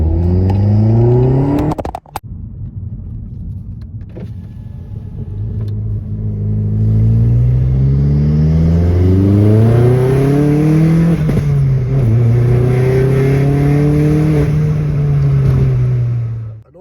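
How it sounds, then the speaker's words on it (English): A car engine revs up and holds a loud, rising drone, close by, after a brief sharp knock near the start. "It sounds alright, this car. I don't know if you can hear it"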